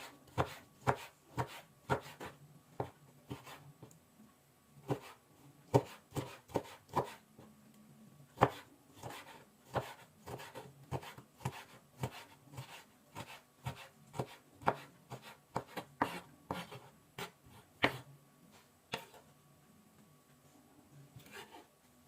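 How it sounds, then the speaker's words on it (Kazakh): Bell pepper chopped with a knife on a board while preparing lyulya kebab in lavash, giving a steady run of close, sharp chopping taps at an even rhythm, heard alone with no talk. "Енді мына жартылай аштық бұрышымызды да осылай майдалап турап аламыз."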